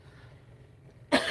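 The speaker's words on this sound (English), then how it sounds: "Excuse me for coughing." A single sharp cough bursts out close to the microphone after a stretch of near silence, loud and abrupt at the very end.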